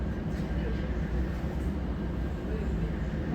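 Steady, loud rumble of a moving train carrying passengers toward a hotel, a continuous low drone with faint rattling and no distinct breaks.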